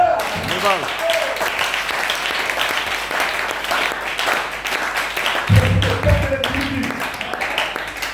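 Church congregation applauding in a sustained, dense wash of clapping throughout, with a voice speaking over it near the start and again toward the end.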